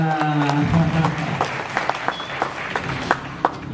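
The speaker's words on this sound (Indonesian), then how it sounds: "Tepuk tangannya kurang kenceng dong." Applause from an audience at a talk in Jogja, dense clapping that rises as a faint tonal sound fades out, then continues with distinct sharp claps popping out near the end.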